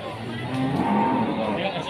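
A black Pegon cow moos once at a cattle market, a low, drawn-out call of moderate loudness with faint crowd chatter behind it.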